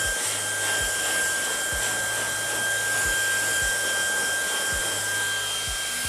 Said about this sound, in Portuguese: tô com o secador embaixo, direcionando bem a favor do fio